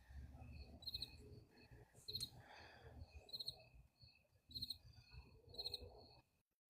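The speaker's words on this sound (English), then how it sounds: "I hear the crickets too." Crickets chirp outdoors at night in short repeated trills about once a second, faint and fairly near, over low background rumble that fades to near silence at the end.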